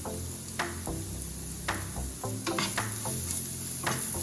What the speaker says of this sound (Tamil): போட்டுட்டு நல்லா மிக்ஸ் பண்ணணும்